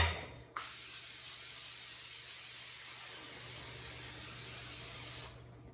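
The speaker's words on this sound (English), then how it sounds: "Almost forgot to spray the muffin tin, so I'm going to do that really quick." A continuous cooking spray hisses onto a muffin tin for about five seconds, close and steady, starting abruptly and cutting off at the end.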